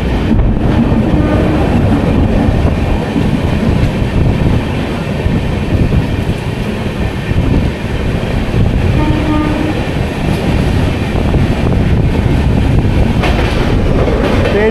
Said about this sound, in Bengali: আমাদের ট্রেন এখন ক্রস করছে দক্ষিণেশ্বর স্টেশন